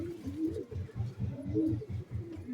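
A pair of pigeons coo close by in a steady, rhythmic run of low throaty pulses repeating about four times a second.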